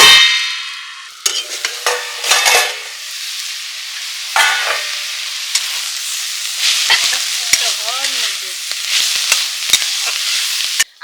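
Bengali cauliflower-leaf paste fries loudly in a pot, with steady sizzling, metallic stirring scrapes and clatters, and a lid clanking as the pot is covered.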